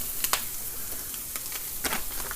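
Cooked meat reheating on a hot stove burner gives off a steady soft sizzle, broken by a few brief, sharper crackles and spits.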